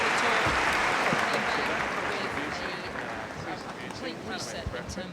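A large tennis crowd applauding at the WTA Finals in Singapore, dense sustained clapping that slowly fades over several seconds, with a commentator talking over it.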